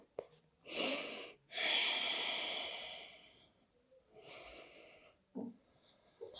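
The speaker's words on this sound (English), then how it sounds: "Deep breaths." Slow, deep breaths drawn in and let out during a yoga forward fold, a long inhale-exhale swell followed by softer, shorter breaths, close and quiet with no talking.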